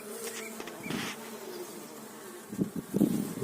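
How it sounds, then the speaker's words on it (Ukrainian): A honeybee carrying pollen in early spring buzzes nearby, its drone rising and falling as it moves close, with no other sounds. "Бджола носить пилочок вже 30 березня."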